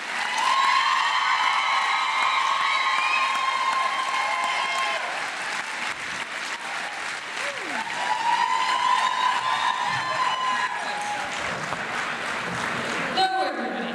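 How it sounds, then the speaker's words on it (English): A crowd at a 2013 nurses' labor awards ceremony applauds and cheers for a winner, with sustained clapping, whistles and whoops that rise and fall, and voices shouting among them. "We have the loud crowd over here"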